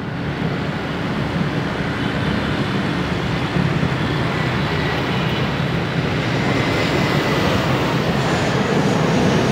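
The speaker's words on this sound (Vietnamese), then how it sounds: "không biết là cả nhà có thấy cái chiếc máy bay không? Chiếc máy bay đó của hãng Vietjet đấy." A Vietjet airliner roars overhead at night near Tan Son Nhat airport in Saigon, a loud, steady broadband engine rumble that fills the whole stretch and swells slightly toward the end.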